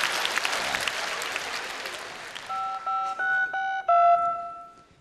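Crowd applause fades out, then a telephone number is dialed in a series of distinct push-button tones, each a short steady beep with a brief pause between.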